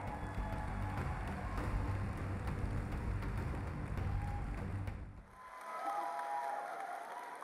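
Audience applause at the Miss Universe Vietnam pageant, dense sustained clapping filling the hall for about five seconds, then cutting off to quieter stage ambience with faint tones.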